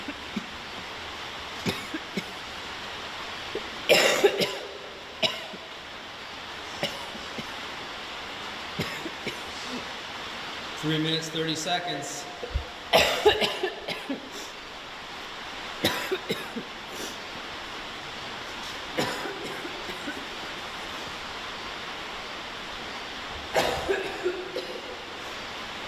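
A person coughs repeatedly in scattered bursts over a soft background hiss, with a brief spoken voice partway through.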